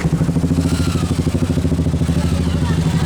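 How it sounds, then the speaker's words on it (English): A Royal Enfield motorcycle engine thumps steadily and close by in the street at a Sunday night market on Mahatma Gandhi Road in Pondicherry, with a low, rhythmic idle pulse and crowd voices around it. "Another Royal Enfield."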